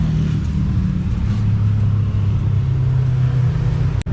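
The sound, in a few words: motor tricycle engine running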